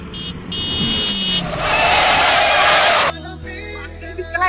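A car passes close by on a street, its engine swelling loudly for a couple of seconds before cutting off abruptly, with a brief horn toot and traffic noise around it.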